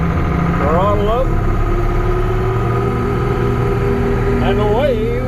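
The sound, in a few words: John Deere 6620 Titan II combine engine throttling up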